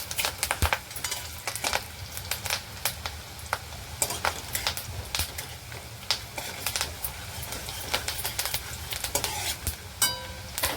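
Chopped onion, curry leaves and dal are stirred in a hot pan: rapid, close spoon-scrapes and clicks over a continuous soft sizzle, with no voices.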